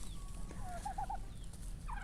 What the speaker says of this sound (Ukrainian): У нас є досталь півників барбаз'є.